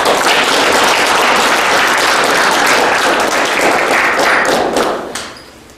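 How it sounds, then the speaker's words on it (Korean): A hall audience at a municipal lecture gives loud, dense, sustained applause to welcome a professor, then the clapping tapers off and fades near the end. "큰 박수로 환영해 주시기 바랍니다"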